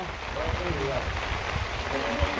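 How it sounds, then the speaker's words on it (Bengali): Rain falls in a steady, soft hiss while voices talk over it. "বৃষ্টি নেমে গেছে"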